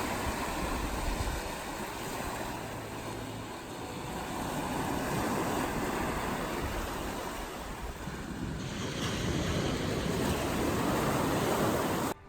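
A river flows into the ocean on a coast in Norway, with steady, loud broadband wash of surf and rushing water, rough wind buffeting over it throughout, and no voices.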